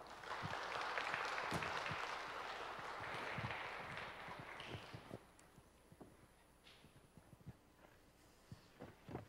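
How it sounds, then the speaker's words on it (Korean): A church youth retreat audience gives a warm round of applause to welcome the guest preacher; dense clapping starts strong, thins and fades over several seconds into scattered last claps, all soft and somewhat distant. "뜨거운 박수로 우리 강사님을 모시겠습니다"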